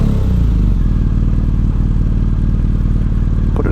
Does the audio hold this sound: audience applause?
no